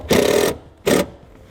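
A power driver runs a self-tapping screw into sheet metal on a 2010 Chevrolet truck, two short whirring bursts, the first longer and the second briefer, close and fairly loud with no talking.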